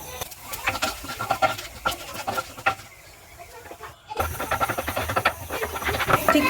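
Halved cashew nuts shallow frying in hot oil, with an irregular crackling sizzle and scraping stirs, briefly quieter mid-way, then a denser steady frying hiss.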